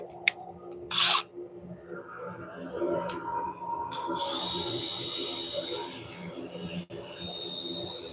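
A wooden bowl spinning on a lathe while 120-grit sandpaper is held against it: a few scattered knocks, then a steady, close abrasive rubbing that continues to the end.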